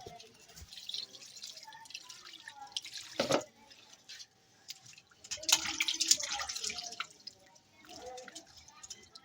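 Mutton leg and chest pieces washed under a running tap, with water splashing and dripping in uneven bursts, louder around the middle, against a quiet indoor background with occasional faint talk.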